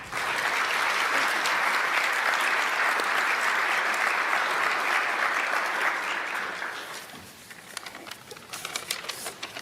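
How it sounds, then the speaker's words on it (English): Applause from an audience at the press conference introducing the new New England Patriots head coach, a dense steady clapping that fades after about seven seconds into scattered claps and camera clicks. "You guys could put your cameras down and clap a little bit"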